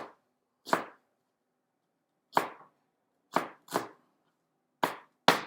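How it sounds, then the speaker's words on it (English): A knife chops an onion on a cutting board while making rice pilaf: six or seven crisp, separate strokes at uneven intervals, close and clear against a quiet background. "Now this part isn't slit, so I just chop it up at the end."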